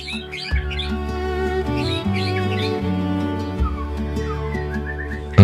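A white-rumped shama (murai batu) sings a bright, varied run of whistles, chirps and trills, loud and close, with a steady low tone sounding beneath.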